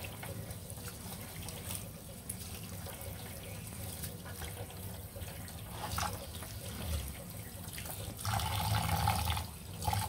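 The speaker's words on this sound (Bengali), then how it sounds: "চালগুলো ধুয়ে ভালো করে ছেঁকে নিব" Rice being washed in water while cooking beef bhuna at home: a steady wash of running, sloshing water with occasional louder splashes, close and continuous, with no clear speech.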